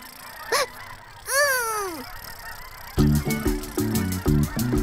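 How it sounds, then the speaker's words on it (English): A flock of geese honking as they head south for the winter, in a cartoon-style scene: one short call, then a long sweeping honk, followed by a loud rhythmic run of repeated stacked honks near the mic. "Joined the 37 geese that were heading south for the winter."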